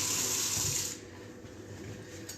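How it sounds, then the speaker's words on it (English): Tap water runs loudly into a kitchen sink as hands are rinsed for about a second, then cuts off, leaving faint room noise and small drips. "everybody wash their hands"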